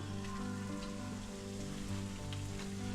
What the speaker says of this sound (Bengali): এটাকে আমি ভাজাই করছি জানো